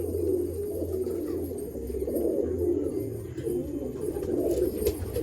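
A pair of Malwai pigeons cooing close by, a low continuous burbling coo that rises and falls in soft repeated phrases, with no voices over it.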